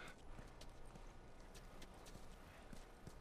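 Horse hooves clopping in The Last of Us, a survival action video game, giving a steady run of soft hoof thuds over a constant game ambience, moderately close and without speech.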